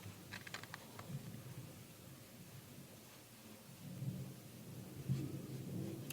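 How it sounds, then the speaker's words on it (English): Thunderstorm rumbling at length in the early morning, low and steady, with a few faint sharp clicks near the start and the rumble swelling louder toward the end, heard from indoors with no talking. "there's a big thunderstorm going on for hours"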